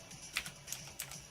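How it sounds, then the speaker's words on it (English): A few sharp key presses on a computer keyboard, number keys tapped at irregular intervals, close and fairly quiet against a faint background hum. "Why can't I type 51 in there?"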